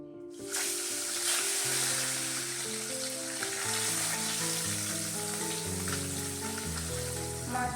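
Tilapia and bata fish fry in hot oil in a wok with a steady, dense sizzle that starts after a brief quiet moment and stays loud and close throughout, with soft music playing underneath.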